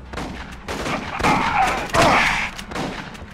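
Gunfire from the Aliens: Colonial Marines video game, a dense burst of rapid shots blending into continuous firing and explosions with a couple of loud swells, close and busy, with no clear talk over it.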